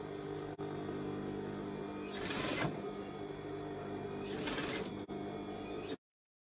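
A sewing machine stitching through layers of gathered net for a petticoat, running as a steady close whir with two louder surges of speed, then stopping abruptly.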